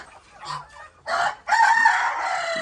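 Chickens and guinea fowl in a poultry coop, with a rooster crowing loudly up close and hens clucking in short bursts that swell into a sustained noisy chorus.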